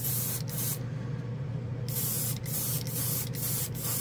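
A close, loud Master Airbrush G79 hiss sprays paint in short bursts, cutting off briefly several times before resuming, with a steady low hum underneath.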